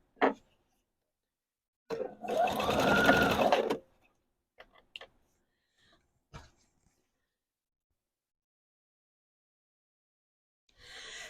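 A sewing machine back-stitches a Christmas pillow case, with a short, steady motor whir lasting under two seconds, framed by a few soft clicks and handling taps in an otherwise quiet room.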